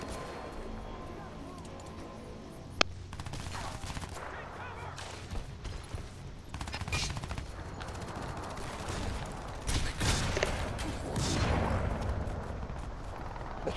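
Crysis 3 multiplayer beta gunfire: scattered shots and bursts over an ongoing din, including a sharp crack near the three-second mark, with someone talking over parts of it.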